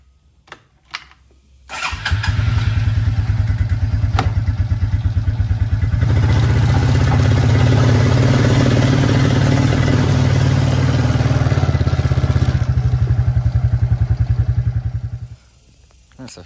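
A 2000 Suzuki King Quad 300 4x4 ATV engine cranks and catches, then idles steadily and loudly up close for about thirteen seconds, rising slightly in intensity midway before cutting off.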